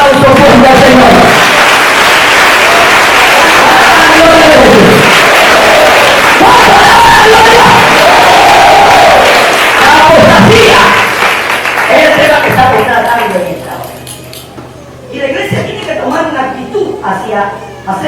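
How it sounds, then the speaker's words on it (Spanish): A church congregation claps and cheers loudly with shouts and whoops mixed in, fading after a while as a voice carries on speaking. "Un aplauso fuerte al Señor."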